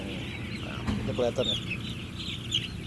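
Chickens in a coop cluck softly and steadily throughout, with a few brief louder calls, while someone speaks briefly over them.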